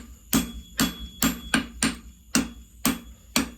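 Hammer blows ring out while forging the heels on a handmade horseshoe: eight sharp, loud metallic strikes in a steady rhythm about half a second apart, each with a short ringing decay.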